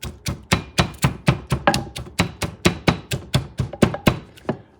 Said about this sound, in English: And you're going to put some of the oregano. You're going to kind of smash it